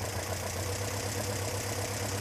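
An engine fitted with Weber carburettors idles at a steady low rumble near 1000 rpm with a faint uneven chug, close by and constant, nothing else audible.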